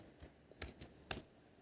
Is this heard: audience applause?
no